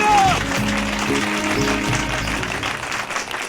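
An audience at a Dussehra festival gathering applauds steadily beneath layered music and background voices, the clapping holding at moderate loudness before tapering slightly.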